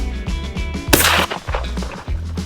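A 20 gauge shotgun fires once at a bird in a tree outdoors, a single loud, sharp blast with a brief rumbling tail, set against a steady background hum.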